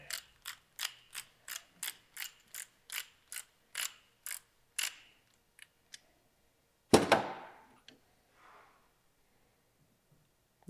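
A ratchet socket wrench turns a bolt on a Yamaha R7 motorcycle: a quick series of about a dozen evenly spaced clicks, close and crisp, then a few isolated ticks and a sharp metallic clank.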